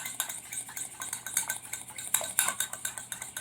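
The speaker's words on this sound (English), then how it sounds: "A hot spoon of the filling mixture to my egg yolks. Stir it up real quick." A spoon stirs egg yolks after a hot spoonful of filling mixture is added, clinking steadily against a bowl in quick repeated scraping strokes, close and fairly loud with no talking.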